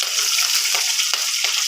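Four green chillies, each cut in two, hit hot oil in a pan and set off a loud, close, continuous hiss and crackle of frying.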